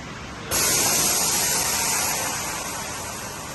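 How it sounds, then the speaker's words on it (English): BMW M5 Competition air suspension airing out: a sudden loud, close hiss of escaping air starts abruptly and holds steady, easing slightly toward the end, with no talking. "And that's fully aired out."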